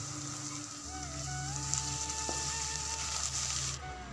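Onions, ginger and garlic frying in a pan, a soft, even sizzle with faint crackles, steady and close, under quiet background music.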